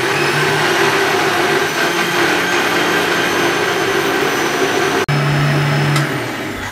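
Juicer jug blender whirring steadily as it grinds carrot, potato and rice into a fine paste for baby food, a loud continuous motor drone with a brief cut and pitch drop near the end.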